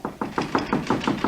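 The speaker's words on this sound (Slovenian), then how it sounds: "Nekdo trka." Eight evenly spaced knocks on a wooden door, sharp and moderately close, each a short thud with a bright rap, repeating at a steady rhythm with no voices.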